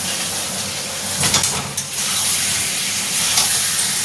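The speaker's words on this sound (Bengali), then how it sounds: "আলুর দমের মশলাটা কষানো হয়ে গেছে, এবার ভেজে রাখা আলুগুলো সব দিয়ে দেবো।" Fried potatoes tipped into a pan of sizzling aloo dum spice masala, a loud continuous frying hiss with a brief rustling stir partway through, close and with no talking.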